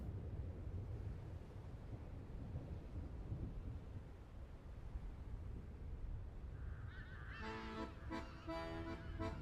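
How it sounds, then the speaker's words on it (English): Pet birds, likely geese, let out a short run of loud honks near the end, after a stretch of low rumbling background noise. "Our birds."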